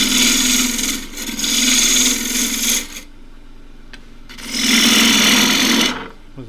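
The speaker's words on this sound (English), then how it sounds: "I'll use the 3/8 deep fluted bowl gouge, 1/2 inch diameter." A 3/8 deep fluted bowl gouge cuts an ash dish on a wood lathe, giving loud rasping cuts in three bursts with a quiet gap between them and no voices.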